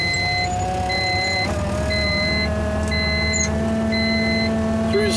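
Engine idling at about 800 RPM after a cold start in snowy weather, a steady low rumble throughout, with regular electronic chime beeps repeating every second or so over it.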